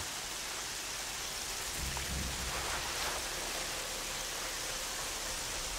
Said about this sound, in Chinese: 超级大雨